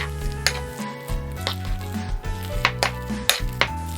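A spoon works through a salted sweet potato filling in a bowl, giving soft scraping and stirring strokes with a few sharp clinks against the dish, close and fairly quiet.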